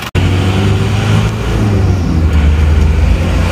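An Isuzu Panther diesel engine with its thermostat removed revs up and holds a steady, loud drone after a sharp click at the start, the low engine rumble running unbroken for several seconds close by.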